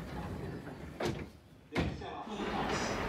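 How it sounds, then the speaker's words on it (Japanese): A manually operated door on a local train on the Hokuriku Main Line at Omi-Imazu Station slides and thumps, with two brief slams about a second apart over steady platform and carriage hum. "近江今津駅からはこのように自分でドアを開けて乗り降りする区間になります"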